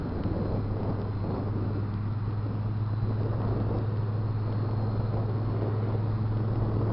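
A radio-controlled boat motor runs outdoors on water on a windy day, producing a steady, faint, low drone with a constant hum that holds at one pitch throughout, with no voices.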